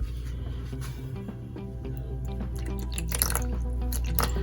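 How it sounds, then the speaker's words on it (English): Water poured from a container into milk mixed with vinegar while making homemade rasmalai, a close splashing and trickling fill that runs steadily and grows slightly louder. "I'm going to add some water to it"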